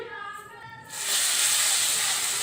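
Cumin seeds are dropped into hot oil and burst into a loud, steady sizzling hiss about a second in, continuing close and unbroken with no talk.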